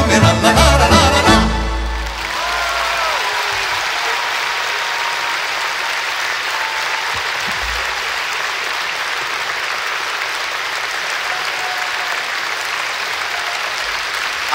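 A concert audience in a hall claps steadily and loudly for over ten seconds, a dense wash of applause following the last bars of a folk orchestra's music at the start.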